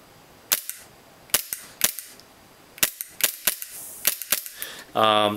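Tokyo Marui G17 airsoft Glock pistol firing about a dozen crisp, sharp shots at an uneven pace, close and loud against a quiet background, ending with a brief buzzing rattle.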